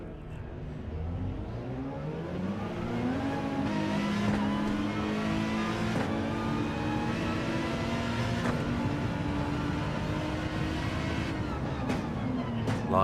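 A GR3 race car in Gran Turismo 7 drives at night on soft tyres, its engine droning steadily and climbing in pitch through the gears with brief shift dips, loud and continuous, with no voices heard.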